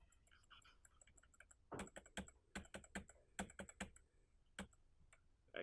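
Fingers type on a computer keyboard, a close run of crisp, irregular keystroke clicks in quick bursts with short pauses, heard alone in a quiet room.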